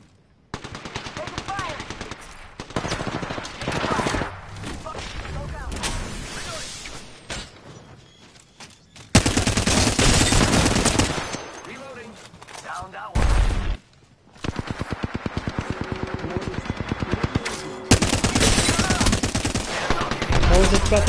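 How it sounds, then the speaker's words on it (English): Bursts of rapid automatic gunfire and single shots ring out in a video game firefight, loud and sustained with short pauses, while players talk over the shooting. "You're taking fire, friends."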